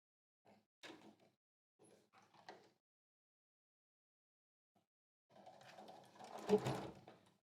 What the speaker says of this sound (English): My machine, when I have so many layers, it needs a little push to get going.